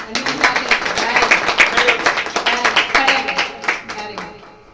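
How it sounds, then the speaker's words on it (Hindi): Church congregation clapping during a Hindi-language sermon, a burst of many hands with distinct sharp claps, rising then tapering off, with voices present underneath. "तालियां हो जाएंगी।"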